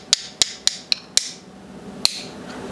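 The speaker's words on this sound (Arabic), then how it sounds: "اجيب درنفيس او شلابتين اي شيء حديد، او حتى اذا تستخدم برغي بالسيارة اجي اسوي هاي الحركة مثل ما تشوفون" A metal screwdriver tapped against a car crankshaft sensor gives six sharp, close metallic clicks. Five come in quick succession, followed by a pause and then one final tap.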